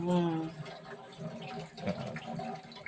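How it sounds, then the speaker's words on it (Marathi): Water splashes and trickles into a pot of Malvani fish curry, with a voice speaking over part of it and kitchen clatter nearby. "हे थोडस पाणी टाकलं आहे आणखी हळद टाकतं"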